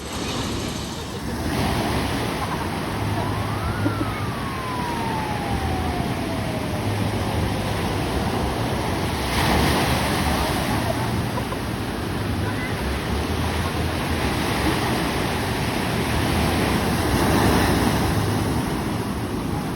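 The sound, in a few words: strong ocean waves on a beach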